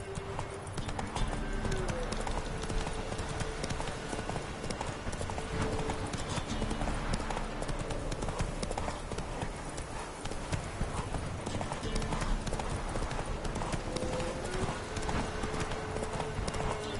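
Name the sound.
horse hooves clip-clopping, The Witcher 3 video game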